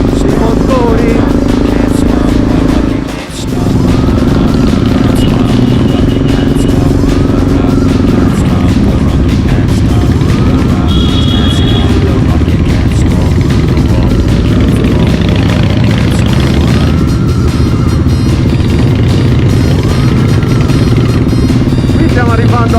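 Motorcycle engines rumble and rev at a biker festival in Sardinia, a loud, continuous din of several bikes, close by, with crowd voices mixed under the engine noise.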